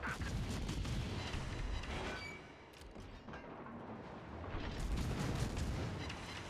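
Heavy naval gunfire and shell impacts in World of Warships, with the cruiser Elbing in battle: continuous loud rumbling booms and blasts rolling across the whole stretch, easing briefly midway before building again, with no talk.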